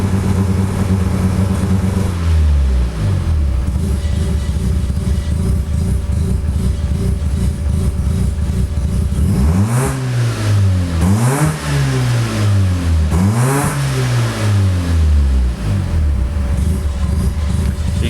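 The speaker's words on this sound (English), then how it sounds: "You can just feel that turbo wanting to spool up." A Mazda RX7 turbo rotary engine running MegaSquirt engine management at low boost, about 10 psi, revs up and falls back several times in quick succession, loud and close with a steady idle between, no voices.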